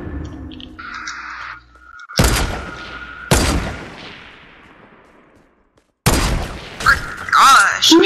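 Two loud, sharp sniper rifle shots from the video game Fortnite crack about a second apart, each trailing off in a long decaying echo, followed after a pause by a burst of further gunfire and game noise.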